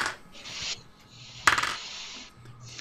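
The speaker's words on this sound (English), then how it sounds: "That's a lot of dice." A handful of dice is rolled during a tabletop Dungeons & Dragons 5E game, making one sharp burst of clattering rattles that quickly dies away, close and alone, with soft rubbing noises before it.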